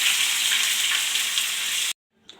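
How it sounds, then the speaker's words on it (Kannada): Bitter gourd pieces frying in hot oil give a steady, dense sizzle for about two seconds, then it cuts out abruptly to near silence with a faint crackle returning. "ನೋಡಿ ಈ ರೀತಿ ಎಲ್ಲ ಫ್ರೈ ಮಾಡಿದ್ದೀನಿ ಎಣ್ಣೆಯಲ್ಲಿ."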